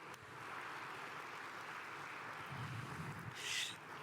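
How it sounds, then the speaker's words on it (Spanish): Faint, steady audience applause at a professional-development talk, a soft continuous patter of clapping heard from a distance. "Un aplauso para ellos"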